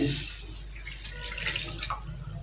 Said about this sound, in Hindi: ये 400 ml पानी डालेंगे